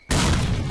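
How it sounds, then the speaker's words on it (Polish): A grenade goes off in a STALKER shooter game: a sudden, loud, close blast that hits at once and rumbles on densely without fading. "Granat."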